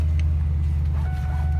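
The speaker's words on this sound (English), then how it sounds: "See, the car idles weird, I don't know why." A Ford Mustang running an E85 tune idles roughly, a steady deep low rumble that holds close and unbroken for the whole short stretch with no talking over it.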